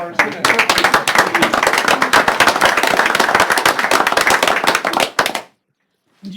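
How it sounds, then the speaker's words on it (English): Applause at a city council meeting, dense, loud clapping from a room of people lasting about five seconds before stopping abruptly into silence. "A round of applause for our city."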